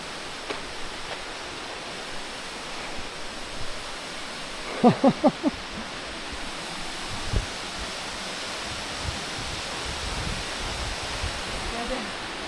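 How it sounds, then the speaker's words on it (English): Waterfall beneath a bridge in Tiger Leaping Gorge, heard as a steady broadband rush of falling water throughout, with brief footsteps or knocks on the bridge partway through. "You're basically crossing a bridge over this waterfall."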